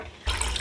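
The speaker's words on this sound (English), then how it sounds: "That is 4 quarts of water that I've added." Water pours from a tap into a soup pot, four quarts in all for boiling chicken: a sudden steady rushing splash starts partway through and continues loud and close to the end.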